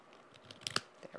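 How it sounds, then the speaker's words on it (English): Scissors trim the edge of a card background piece in a quiet crafting setup, making a few quick, faint snips close by with no talking. "Pair of scissors."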